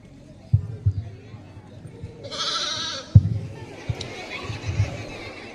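A sheep bleats once, a drawn-out mid-distance call at a Christmas celebration, heard among people talking and scattered knocks.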